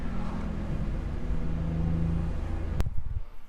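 A BMW 335 with the N54 engine and a Precision Raceworks ignition kit downshifts, a steady close engine drone that rises and roughens near the end, with no talking.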